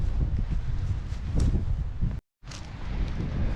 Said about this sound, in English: the wind's gusting this strong